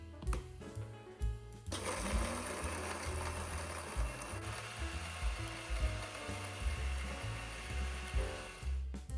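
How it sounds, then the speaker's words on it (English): A cheap electric food grinder whirs loudly as it chews through dried tomatoes, with a rattling, pulsing motor roar after a short start, close up and without talk. "I wound up running the grinder on this for maybe 45 seconds"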